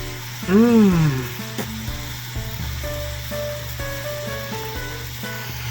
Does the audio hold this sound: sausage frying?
yes